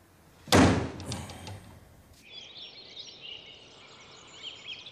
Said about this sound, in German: Und knall die Tür bitte leise zu